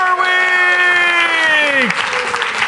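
A live audience at a Superweek analytics conference claps steadily throughout, a dense broadband wash of hands, with tonal sweeping sounds layered over it that dip near the end.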